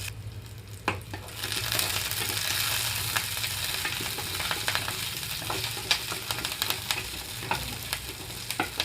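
Green chillies and curry leaves fry in hot oil in a pan, giving a loud, continuous close sizzle with a few sharp pops and occasional stirring clinks, and no one speaking.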